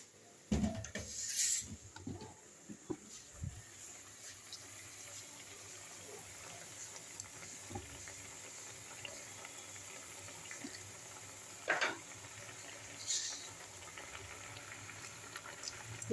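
A pan of bitter gourd shukto curry simmers on the stove, giving a soft continuous bubbling with a few faint clinks and taps, quiet and close with no talking.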